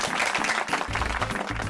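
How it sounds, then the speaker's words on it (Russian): Loud audience applause in a television song-show studio, dense and sustained clapping from a full crowd throughout, close and steady with a low rumbling undertone and no talk over it. "я попрошу всех поприветствовать друг друга громкими аплодисментами"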